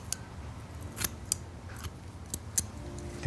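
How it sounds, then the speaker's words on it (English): Scissors snip through hair donut padding, cutting it in half: a few sharp, close metallic snips spaced irregularly over near silence. "So what I do is I cut them in half like this."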